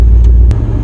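LS-swapped Jeep Wrangler engine idling close by, a loud deep rumble that steadies into a lower drone partway through, with no voices.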